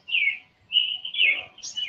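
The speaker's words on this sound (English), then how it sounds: "The birds are chirping a little bit loud over there" Birds chirping outdoors: several bright, high tweets and short calls in quick succession, fairly clear against a quiet background.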